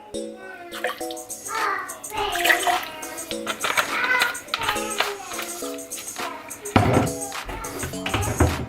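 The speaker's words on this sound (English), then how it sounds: "You just pour a little bit into each cup." Vinegar poured from a container into small cups for a toddler baking soda craft, a light liquid splashing and trickling close by, with a voice and other chatter over it.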